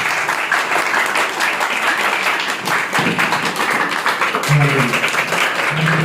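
A church congregation claps together in steady loud applause for about six seconds, with a few low thumps mixed in.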